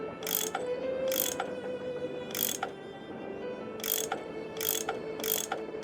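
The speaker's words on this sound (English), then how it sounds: "I bet that's what you use to unscrew these bolts" A tool turning bolts in the Nancy Drew game Last Train to Blue Moon Canyon, a series of about six crisp mechanical ratcheting clicks over a steady hum.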